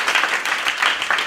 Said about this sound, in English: Round of applause for our esteemed panelists